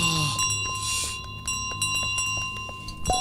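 A golden bell rings in Untitled Goose Game: several struck, bright metallic chimes with sustained tones ring out one after another over a short stretch, with a faint low thud near the end.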